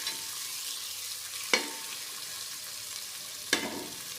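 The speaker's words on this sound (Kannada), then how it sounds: "ನೋಡಿ ಚೆನ್ನಾಗಿ ಫ್ರೈ ಮಾಡಿದ್ದೀನಿ ಎಣ್ಣೆಲೆ ಈರುಳ್ಳಿನ" Chopped onions fry steadily in hot oil in a pan for a chicken masala, with a continuous soft sizzle and two sharp spatula scrapes a couple of seconds apart, close and with no talking.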